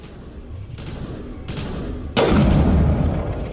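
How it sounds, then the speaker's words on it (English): Gunfire in Mass Effect on Insanity difficulty, with Wrex, a squad member, in the line of fire: bursts of shots over combat noise, then a sudden heavier blast that stays loud to the end. "Shoot Rex in the face."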